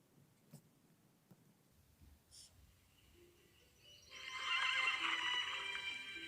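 A horse whinnies loudly in an app's trailer, a bright sustained neigh arriving after a few seconds of quiet, faint clip-clop and soft background sounds.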